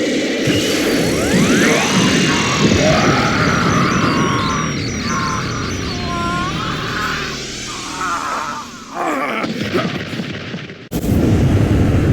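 A loud, sustained energy blast from Piccolo's Special Beam Cannon in Dragon Ball Z: Kakarot, with sweeping high tones and rumbling low roar, cutting out abruptly near the end before a burst returns.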